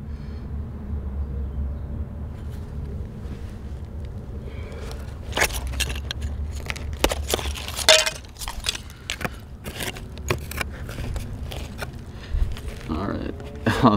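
Old glass bottles and shards clink and scrape against each other as they are dug out of a buried cache beside a garage, with irregular sharp chinks over a low outdoor rumble and someone speaking throughout.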